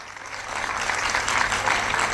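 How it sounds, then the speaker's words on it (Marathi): Audience applause at a state-level Mangalagaur celebration in Thane, held by the BJP and Vishwas Samajik Sanstha: a sustained, dense wash of clapping from a crowd that swells slightly and holds steady throughout. "जरा जोरदार टाळ्या झाल्या पाहिजेत आई बाबांकरता"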